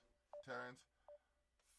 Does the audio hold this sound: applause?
no